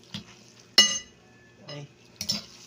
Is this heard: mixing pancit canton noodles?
yes